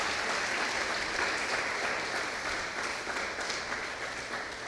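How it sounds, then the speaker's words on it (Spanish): A church congregation breaks into loud, sustained applause, dense and continuous clapping filling the hall for several seconds before slowly easing. "Dele palmas fuertes al Señor."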